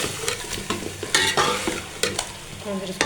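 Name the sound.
frying chicken meat in a pot for pulao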